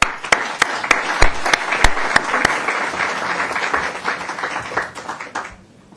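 Audience applause welcoming a lecturer, a dense burst of many hands clapping at close range with a few sharp individual claps standing out, holding steady and then tapering off at the end.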